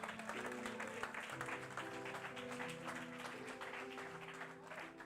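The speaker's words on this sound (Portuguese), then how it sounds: "Você pode aplaudir em nome de Jesus?" A church congregation applauds with a steady wash of clapping, dense and continuous, mixed with sustained keyboard or organ tones underneath.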